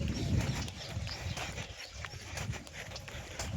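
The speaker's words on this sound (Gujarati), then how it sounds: "જો ગાયો પણ જઈ રહી છે ચરવા." Cows walking out to graze, their hooves giving soft, uneven clip-clop steps on the ground, fairly faint and a little distant, with a low background rumble.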